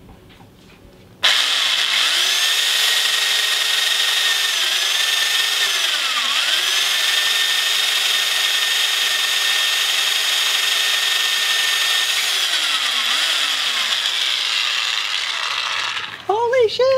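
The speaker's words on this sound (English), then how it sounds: "I'm drilling stainless." Drill bit boring through stainless steel on a boat gate build, a loud, steady high-pitched whine and grind held for about fifteen seconds with slight pitch dips, ending abruptly.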